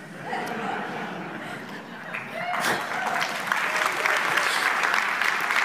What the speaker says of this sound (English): Do you want to clap yourself as you come?